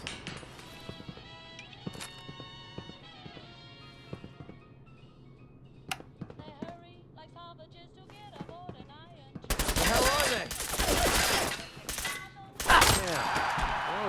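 Rapid automatic gunfire from a first-person shooter game erupts loud in bursts in the later half, after a quieter stretch of scattered game sounds.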